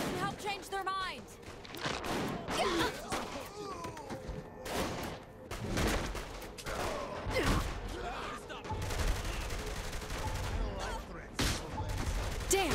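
Gunfire in Saints Row The Third: bursts of rapid shots and sharp cracks scattered through a chaotic fight, with voices talking and shouting between and over the shooting.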